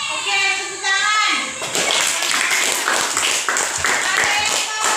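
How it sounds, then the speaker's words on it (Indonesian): Classroom applause breaks out after a pair of tonal voice-like notes, with dense rapid clapping from many pupils filling the rest of the clip, fairly close and loud, mixed with children's chatter. "Oke, tepuk tangan."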